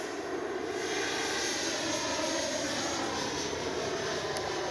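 An FMS Avanti S 90mm RC jet flies overhead, its electric ducted fan giving a steady, loud, high-pitched whooshing whine that holds constant throughout, with no talking.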